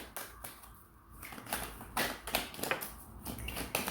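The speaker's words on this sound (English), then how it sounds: "I've been shuffling for a while, so let me get another card." Tarot cards are shuffled close up in a quiet room, making a steady run of soft, fast riffling, slapping and brushing sounds with small gaps between them.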